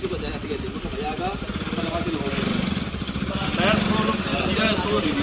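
A Bajaj Pulsar RS200 motorcycle runs after service, its engine chugging steadily at close range and revving up briefly, mixed with voices and workshop background noise.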